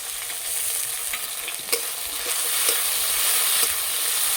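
Garlic paste and ginger paste hit a hot pan with tomato and green chillies, giving a bright, even hiss of frying throughout, with a few faint spatters and taps, close up and with no talking.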